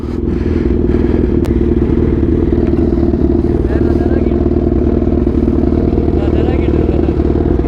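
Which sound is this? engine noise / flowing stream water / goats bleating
engine noise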